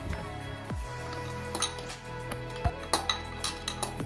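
Metal striking a stuck wheel bearing assembly to loosen it during bearing removal without a puller, sharp close-up clanks and knocks in an irregular series, faint and sparse at first, then several louder blows.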